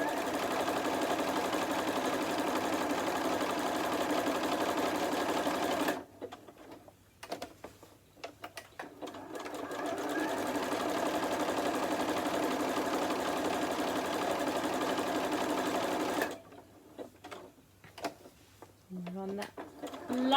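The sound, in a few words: sewing machine stitching a star place mat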